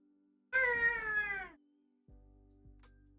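A pet cat gives one long, clear meow close by, followed by a couple of faint soft chirps over a low steady background hum.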